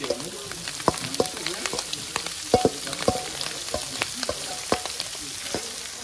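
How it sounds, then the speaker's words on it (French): Onions frying in a pan, a continuous crackling sizzle with sharp pops and clicks of utensils scattered throughout, close and fairly quiet, with faint voices in the background. "Là, tout de suite, des oignons dedans."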